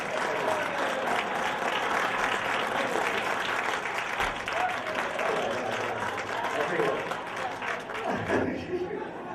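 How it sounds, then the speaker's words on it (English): An audience applauds Jeff with steady, dense clapping that fills the whole stretch, with crowd voices and cheers mixed in, tapering slightly near the end. "Give him a big round of applause."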